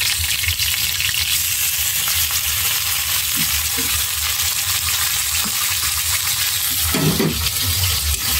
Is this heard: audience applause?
no